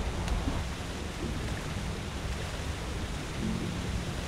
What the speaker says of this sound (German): Ist aber schön mit dem Wasserfall.